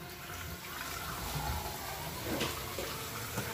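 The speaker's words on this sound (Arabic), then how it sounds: "غادي ندير عليه الماء شويه ديال الماء" Water pours into a cooking pot for couscous, a continuous splashing, rushing flow that fills the whole stretch at moderate level with no clear voices.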